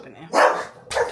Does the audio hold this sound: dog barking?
yes